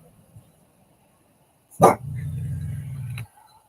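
A single sharp dog bark followed by a low, sustained growl-like woof, close by, in an otherwise quiet setting.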